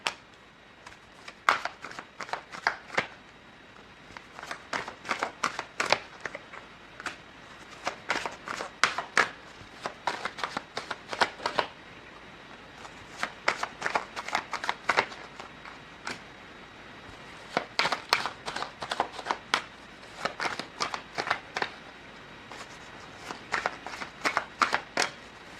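Tarot cards shuffled by hand in repeated bursts of crisp, close riffling and flicking, separated by short pauses, with no talking over them.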